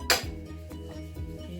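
Utensils mix a fish and potato mixture with grated cheese in a dish, giving one sharp clink near the start and then soft scraping and light knocks, close up, with no talking.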